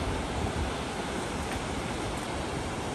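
Waterfalls at Noguri camping ground in Uenomura, Japan, heard as a steady, loud, broadband roar of falling water that stays constant throughout with no talk above it.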